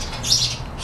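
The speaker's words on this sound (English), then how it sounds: "Shut up, you stupid bird." A pet bird gives a brief, shrill squawk indoors, close and fairly loud, lasting under a second with no talk over it.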